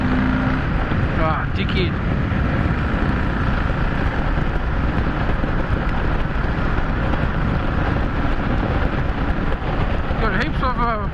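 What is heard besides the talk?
motorcycle exhaust while overtaking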